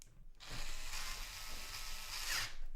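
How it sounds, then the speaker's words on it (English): A screw is driven into a PC case for a used Ryzen and RX 580 gaming build, producing a close, steady ratcheting whir that lasts a couple of seconds. "And we screw it in."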